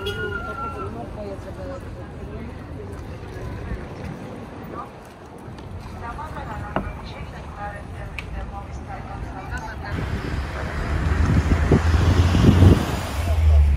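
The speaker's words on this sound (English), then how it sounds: "Headed to Pisac on one of these big buses." A big bus travels the road from Cusco to Pisac in Peru's Sacred Valley, with a steady engine and road rumble that swells louder toward the end, while voices talk faintly underneath.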